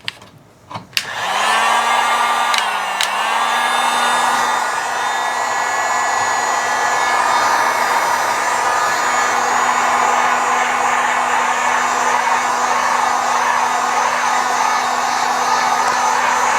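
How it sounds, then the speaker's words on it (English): A heat gun blows steadily after a brief click and spin-up, warming the glue under OneWheel Plus grip tape; a loud, continuous whine with a steady low hum runs unbroken to the end, with no talking. "they recommend heating it up with a heat gun"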